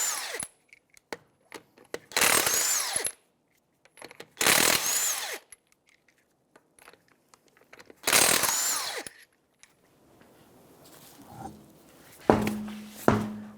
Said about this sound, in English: 21mm socket, we're going to remove the lug nuts on the front tire.